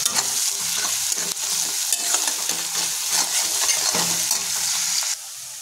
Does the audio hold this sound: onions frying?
yes